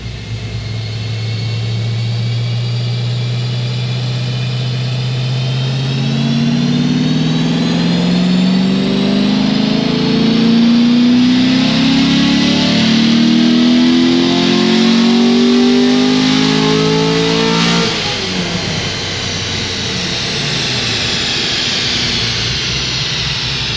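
A car engine fitted with RPM stage 3 heads and a cam package revs up steadily under sustained load, its loud droning pitch climbing smoothly for about fifteen seconds before dropping back, heard close and alone.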